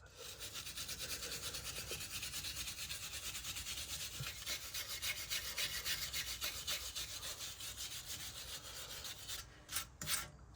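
A brake caliper on an Audi A5 S line is scrubbed with a brush before painting, producing a continuous close rasping, rubbing noise that runs almost unbroken, with a couple of sharper scrapes near the end.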